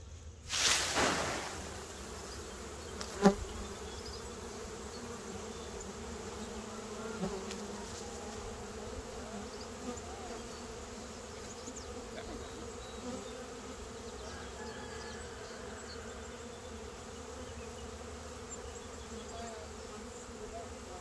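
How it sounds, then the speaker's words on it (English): A swarm of honey bees being shaken into a hive fills the air with a steady, dense buzzing hum throughout, after a brief thump of the shake near the start. "now we're going to shake these bees into the hive"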